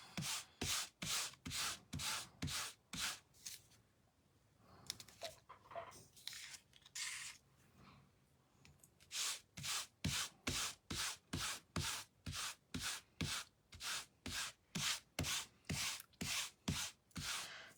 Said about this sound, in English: And rub your ink pad over.